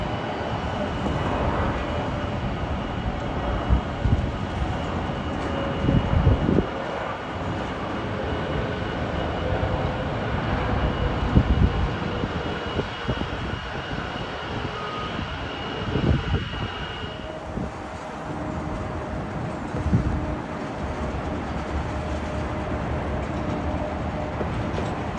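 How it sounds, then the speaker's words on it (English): A British Airways Airbus A320neo airliner arriving at Heathrow gives a steady, broad jet-engine roar that holds loud and even for a long stretch, shifting slightly in tone partway through as it passes. "British Airways A320 Neo. It's arriving at Heathrow from Frankfurt."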